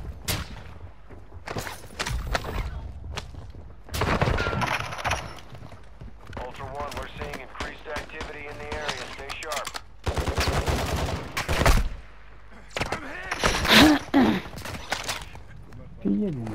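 Gunfire from another player in a Call of Duty match: repeated sharp bursts and single shots crack out at irregular intervals, some near and loud, others farther off, while a player talks over much of it.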